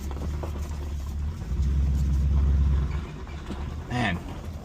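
A 1965 Pontiac Lemans V8 rumbles at idle with a deep, steady low throb that swells briefly midway, heard close with faint voices in the background.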